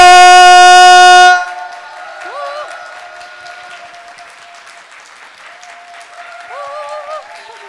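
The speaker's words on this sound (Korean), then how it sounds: "오늘 찾아주신 모든 분들 박수 함성 심하게 주시면 시작해보도록" Audience applause and cheering at a Mrs. Universe pageant celebration show before a beatbox act. A loud sustained horn-like tone opens it, then a softer, steady crowd roar continues with occasional whistle-like pitch glides.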